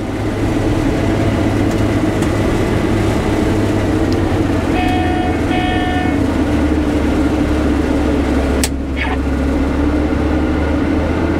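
A combine harvester cutting wheat makes a loud, constant low mechanical drone close by, with a few short electronic beeps partway through and a brief clatter near the end.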